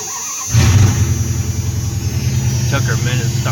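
A 1997 Dodge Ram engine cranks and catches before dawn, then settles into a loud, rough, close idle with a steady rumble.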